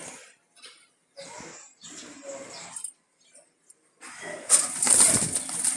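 Wild Jalali pigeons cooing softly in short bursts, then a loud flurry of wing flapping near the end, with no talking.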